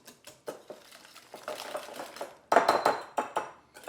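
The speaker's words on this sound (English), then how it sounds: "I'm going to come in here and give this a good little mix." Two large eggs and an eighth teaspoon of salt are mixed in a bowl for cottage cheese brownies, with quick, irregular clinks and scrapes of a utensil against the bowl, close and clear, with a louder burst partway through.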